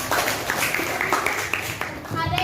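Students in a classroom clap for a classmate in a short, lively round of applause, with voices talking over and around the claps.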